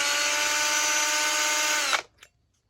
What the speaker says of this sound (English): So let's turn to the drill real quick.